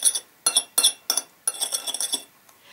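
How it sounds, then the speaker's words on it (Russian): A spoon clinks against a bowl while stirring a homemade face mask mixture for facial hair removal: a handful of short, bright clattering bursts in an irregular rhythm, close and moderately loud, fading to quiet at the end. "Вот так мы с вами перемешиваем"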